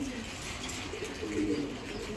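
A giribaz racing pigeon gives a soft, steady cooing murmur against a constant background hum, brief and close.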